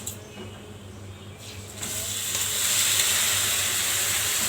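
Rice hits a pan of fried vermicelli for Egyptian koshari, and a low hiss swells into a loud, steady sizzle that holds to the end.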